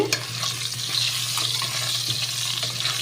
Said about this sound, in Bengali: আলুটা একটু ভাজা হবে আল আলুগুলো ভাজা হোক